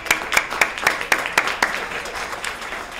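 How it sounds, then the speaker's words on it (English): Applause at a chamber of commerce small business awards event, beginning as sharp, regularly spaced claps, close and distinct, then softening into lighter scattered clapping toward the end. "let's give them a round of applause"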